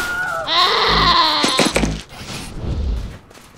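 Goats bleat in the video game Wasteland 3, a couple of wavering, nasal calls up close, mixed with brief clattering sounds and a low thump before fading out.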